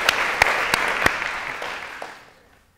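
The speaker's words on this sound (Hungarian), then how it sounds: "Tapsot kérek a fiatal emberek" A small group claps for young people at a gathering in Pécs, with a few distinct claps over a brief patter that fades out within about two seconds.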